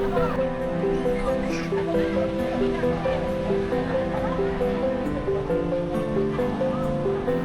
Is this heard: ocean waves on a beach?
yes